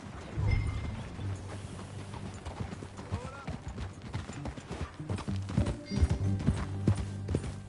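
Horse hooves clip-clopping at a walking pace in the video game Red Dead Redemption 2, with a soft whinny early on and low ambient tones in the background.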